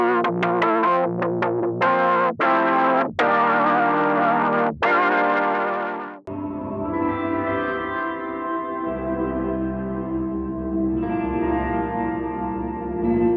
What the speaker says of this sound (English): there's a lot that you can do with this pedal to create some really crazy complex sounds